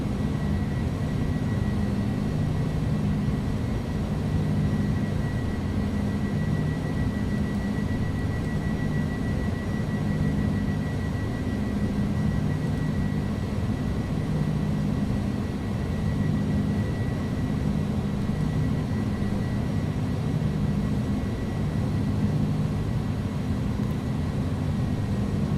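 An iniBuilds A300 BelugaST climbs out of Hawarden in X-Plane 11, its engines giving a continuous, steady low drone with a faint high whine, unbroken and even in loudness for the whole stretch.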